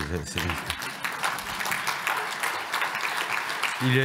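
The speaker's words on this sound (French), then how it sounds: "Mais vous pouvez l'applaudir" Steady applause from an audience fills the room for several seconds, with a voice coming in briefly at the start and end.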